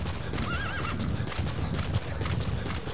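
A horse whinnies over a steady, busy clatter of hooves and ambient game noise in Metal Gear Solid V: The Phantom Pain, continuous and fairly loud throughout.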